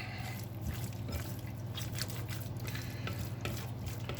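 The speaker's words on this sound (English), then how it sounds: "So just mix it up very well at this point and then set it aside." Raw chicken pieces are mixed by hand with cornstarch and seasonings in a bowl, giving soft, wet squelching and stirring sounds in an irregular rhythm, close and fairly quiet, with no talking.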